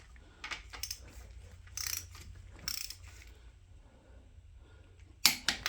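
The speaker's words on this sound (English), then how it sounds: "One of those click torque wrenches. I got it set to 45." A click-type torque wrench set to 45 tightens connecting rod bolts on a Big Block Chevy 454 during piston and rod installation, giving a few sharp mechanical clicks and ratchet sounds over quiet garage background.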